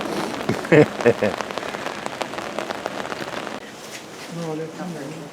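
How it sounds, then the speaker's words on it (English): Rain falling steadily near a retreating glacier in cold weather, a dense patter with a few louder close drops early on, then quieter, with a voice talking over it. "It's raining."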